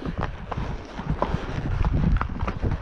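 Horse hooves clopping steadily over rough rock on a backcountry pack trip, several green horses walking at a relaxed pace, with some low rumbling background noise.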